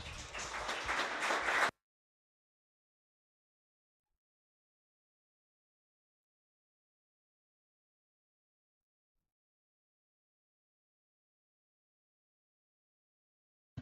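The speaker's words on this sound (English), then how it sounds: "thank you for the round of applause" A short burst of applause from an audience at an international biodiversity conservation forum, dense clapping lasting under two seconds before cutting off into silence.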